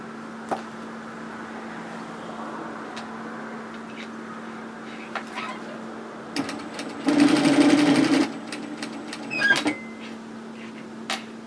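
A sewing machine stitches a pleat on a hoodie, with a short burst of close, fast whirring stitching about a second long, surrounded by a steady hum and scattered clicks and handling noises.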